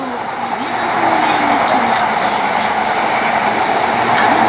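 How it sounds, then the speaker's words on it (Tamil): A train rolls past at a trackside spot in Tokyo, a loud, continuous rumble with rhythmic clickety-clack from the wheels that swells after the first second and stays strong. "இன்னும் ஒரு ட்ரெயின்"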